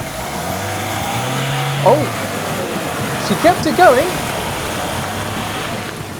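A Ford Galaxy driving through the river ford at Rufford sends up a big splash; a brief surge of rushing water over steady engine and outdoor noise, with people talking and reacting nearby.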